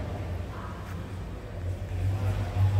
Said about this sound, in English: has kind of a cherry bomb, nice little rumble to the exhaust, dual exhaust coming out of that Y block